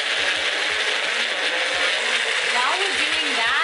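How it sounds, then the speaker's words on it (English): A blender mixing a holiday cocktail whirs loudly and continuously, its motor pitch wobbling and dipping now and then as the contents churn. "Then we'll put her in the blender."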